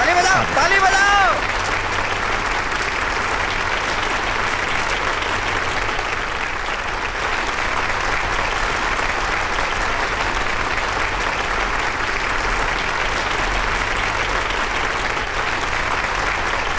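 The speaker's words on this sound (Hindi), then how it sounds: "ताली बजाओ, ताली बजाओ।" Dense, steady applause from a large crowd at a swearing-in ceremony, sustained clapping filling the whole stretch with a brief louder burst at the start.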